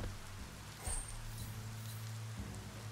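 Rainfall in the video game Biomutant, a soft continuous patter over low droning ambience, with a brief louder rustle or thump near the start and another shift in tone toward the end, no one speaking.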